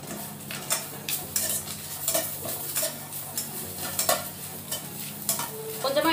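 Chayote and coconut sauté in a pan for thogayal, with a steady sizzle under frequent rhythmic scrapes and taps of a spatula against the metal, close and without talking.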